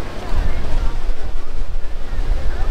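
Sea waves washing onto the shore at Kanyakumari, India's southern tip, heard as a loud continuous surging rush mixed with heavy wind buffeting the microphone throughout.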